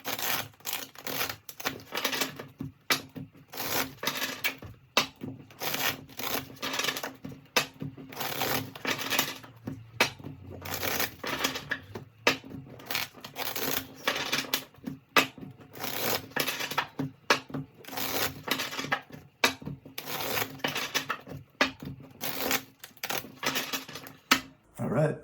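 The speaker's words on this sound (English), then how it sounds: "10 shuffles." A tarot card deck is shuffled by hand in quick repeated riffles, each a dense papery flutter with short pauses between, close and fairly loud with no talk over it.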